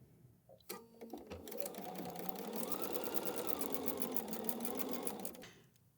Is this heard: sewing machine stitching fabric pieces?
yes